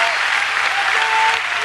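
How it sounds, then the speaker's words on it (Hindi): Loud, steady applause from a large audience at a religious gathering in India, a thick, continuous wash of clapping that fills the whole stretch. "पंडित जी को जोरदार ताली बजाई जाए"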